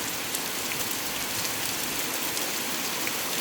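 Hail and rain pour down steadily at a home in Durgapur, a dense, even roar of drops striking surfaces with occasional sharper impacts, loud and constant with no talking.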